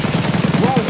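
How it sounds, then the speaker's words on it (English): Gunfire in Escape from Tarkov, a rapid, continuous stream of close shots lasting about a second with a voice overlapping. "What are you shooting at?"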